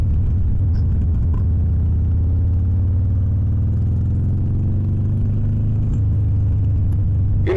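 A Harley-Davidson Sportster motorcycle runs while riding, a loud, steady low engine rumble with a throbbing pulse throughout and a slight rise in pitch near the end, with no voices.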